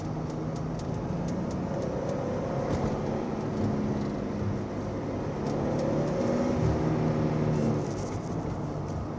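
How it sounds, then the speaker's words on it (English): A 1990 Nissan 300ZX Fairlady Z on the road, its engine and road noise a steady low rumble from inside the car. Faint shifts in engine pitch mark the downshift, which stays soft and indistinct. "Braking is even. Downshift in a second."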